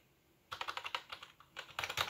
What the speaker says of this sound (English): if I hook up this basic keyboard instead of my mechanical gaming keyboard